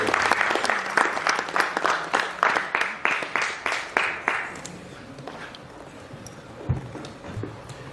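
Audience applause greets a speaker's arrival at a business event, a crowd clapping briskly and rhythmically for a few seconds before tapering off into scattered claps and murmurs.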